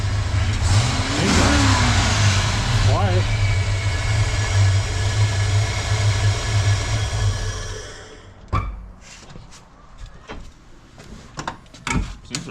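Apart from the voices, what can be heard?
modified 5.0 Mustang engine running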